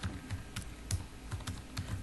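Someone types on a computer keyboard in a steady run of crisp, closely spaced keystrokes, near and distinct, with no voices.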